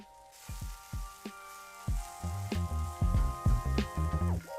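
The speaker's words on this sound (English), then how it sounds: "So let's get the peppers into our pan." Serrano peppers hit a hot stir-fry pan for steak stir fry, landing in a run of sharp, close clatters and thumps, then settling into a bright crackling sizzle that grows denser toward the end.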